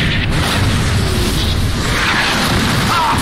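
In the Xbox 360 game Call of Duty 3, bombs explode in one continuous, loud, rumbling roar with dense low booms and no clear breaks.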